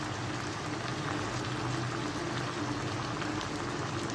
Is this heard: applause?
no